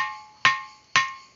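A stone struck twice at an even pace, each hit giving a sharp attack and a bright, sustained ringing tone like a small gong that decays slowly between strikes.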